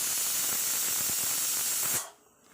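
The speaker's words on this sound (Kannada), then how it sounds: "ಒಂದು ವಿಷಲ್ ಅಷ್ಟೇ ನಾನು ಇದರಲ್ಲಿ ವಿಷಲ್ ಬರ್ಸ್ಕೊತೀನಿ" A pressure cooker of mutton sambar vents with a loud, sustained hiss of escaping steam for about two seconds before cutting off abruptly into quiet.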